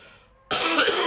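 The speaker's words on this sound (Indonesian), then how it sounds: "Batuk angin itu Kak" A single sudden, harsh cough breaks a quiet room during a massage therapy session; the person coughing has aching wind and waist pain. It is loud and close and carries on briefly after the first burst.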